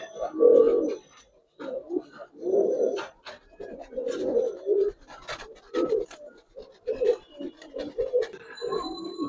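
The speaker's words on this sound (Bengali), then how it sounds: "এগুলো পুরো জাতের কবুতর, খুব একটা এখন দেখা যায় না" Pigeons coo in repeated low, throaty bursts, one after another, fairly close, with brief pauses and light scratching between calls.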